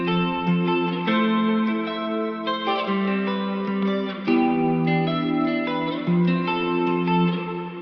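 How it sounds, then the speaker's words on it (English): A MIDI pop guitar run through the Tal Chorus plugin picks a shimmering, wide chord progression with a wobbly 80s-style chorus effect, loud and continuous, with no voices. "And the first will be adding a chorus effect."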